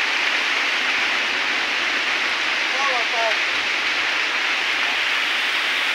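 Heavy rain pours steadily as a dense, even hiss with no break, close and loud around a hut, and brief faint chirps rise for a moment near the middle.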